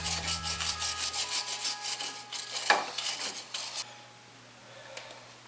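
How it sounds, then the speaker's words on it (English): Close scraping and rubbing as the threads on a 2001-2005 Ford Explorer Sport Trac front suspension part are cleaned, a quick run of rhythmic rasping strokes that stops partway, leaving a quiet hum. "Now it's always a good idea to clean the threads off of before you put the new one on"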